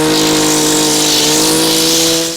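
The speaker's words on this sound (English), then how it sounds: "A gas-powered hedge trimmer makes quite a bit of noise." A gas-powered hedge trimmer runs at a steady high rev, its loud, buzzing engine drone close by and easing slightly at the end.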